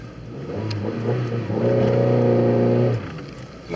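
Idling car engine held stationary with the handbrake firmly applied, a steady low drone that swells to a louder, fuller hum midway before easing back, heard close with no talking.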